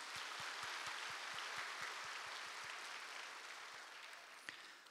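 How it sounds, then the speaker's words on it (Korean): Church congregation in Korea applauding a welcome for new members during a Sunday morning service, a dense sustained wash of clapping from a large crowd that slowly tapers off, with a faint rhythmic low thumping beneath it. "동산의 가족이 되신 분들께 우리의 마음을 담아 환영의 박수를 드리겠습니다"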